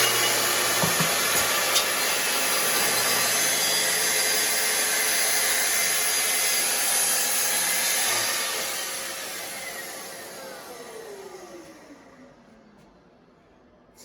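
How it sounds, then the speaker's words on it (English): A Festool TS 55 track saw makes a rip cut through wood with a steady, loud whine that bogs down slightly mid-cut, then winds down and fades to near silence as the blade spins to a stop. "I hope you heard the saw kind of bog down a little bit"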